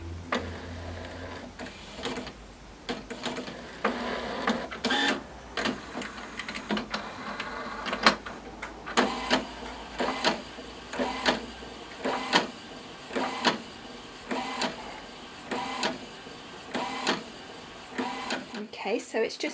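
A Cricut Imagine machine prints with repeated rhythmic mechanical passes, whirring carriage sweeps and ticking clicks in regular bursts, fairly close and moderately loud, with a low hum at the start.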